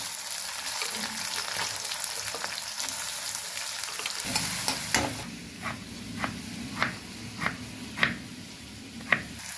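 Onion pieces fry in oil in a pan with a continuous close sizzle, then a run of regular spoon scrapes and clacks against the pan as they are stirred.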